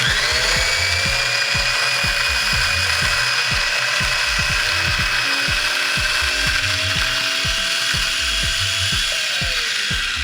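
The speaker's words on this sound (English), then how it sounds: "You can actually hear when the grinding stops, when there's no more scratching noise, the grinding noise." An ARCO 2-in-1 electric coffee grinder crunches through coffee beans with a steady, rapid ratcheting clatter over a constant motor whine, close and continuous.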